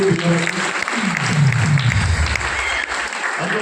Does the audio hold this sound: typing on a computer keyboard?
no